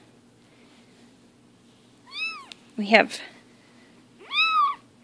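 Four-week-old Bengal kittens meowing indoors, two clear rising-falling mews about two seconds apart, close and moderately loud, with someone speaking briefly between them.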